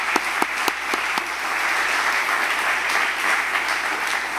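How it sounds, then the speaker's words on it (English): Applause fills the room at a United Way annual meeting, opening with a few sharp, distinct claps that quickly swell into a sustained, even roar of clapping from the audience. "I want to give a big round of applause for your leadership and direction."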